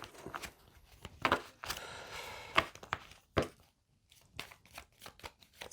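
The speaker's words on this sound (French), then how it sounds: "Alors, on va bien mélanger le jeu." A deck of cards being shuffled, heard as scattered taps and slaps with a dense riffling flutter in the middle, fairly close and moderately loud, with no talk.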